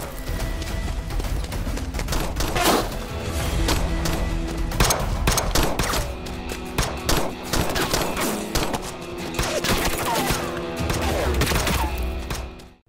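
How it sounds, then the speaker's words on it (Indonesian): Rapid bursts of gunfire from a film shootout, loud cracking shots in fast clusters and sustained volleys over a dense action soundtrack, with no speech. "Sempat terjadi aksi baku tembak di antara mereka"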